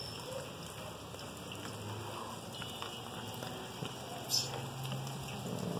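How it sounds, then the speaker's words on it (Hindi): Heavy rain falls steadily in Pakistan, a dense continuous patter of drops on surfaces heard up close, with a faint voice talking underneath. "आवाज़ और बारिश तेज़ हो चुकी है"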